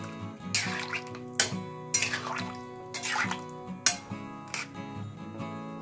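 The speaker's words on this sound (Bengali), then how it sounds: "এবার আমি এর মধ্যে অ্যাড করে দিচ্ছি গরম জল।" Hot water poured into a pot of chicken pilau with potatoes, splashing in several loud gushing bursts over a steady background tone, close, with no talking.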